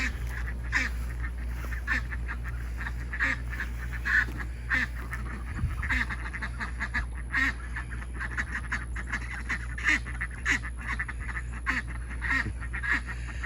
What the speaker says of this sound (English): They're friendly ducks.